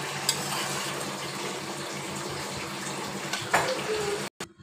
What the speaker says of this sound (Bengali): এখন আমি এতে দিয়ে দিচ্ছি পর্যাপ্ত পানি